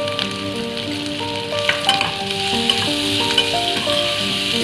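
Chopped onions and capsicum sauté in a hot pan for vegetable Manchurian, a close, steady crackling sizzle with scattered pops and faint tonal hum behind it.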